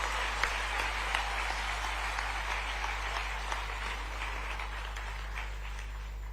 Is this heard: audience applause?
yes